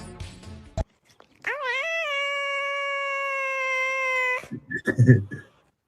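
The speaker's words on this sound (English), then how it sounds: "What animal is that? Oh, it's a cat." A cat gives one long, loud, drawn-out meow lasting a few seconds, with a wavering pitch that sounds close and clear. A short rustle comes just before it, and a brief burst of noise follows.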